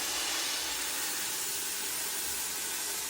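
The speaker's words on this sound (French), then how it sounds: "La vapeur, hop, vous allez pouvoir passer directement" Steady, broad hiss of steam jetting from a Vapor'Max steam cleaner used against bed bugs, continuous and fairly loud with no pauses.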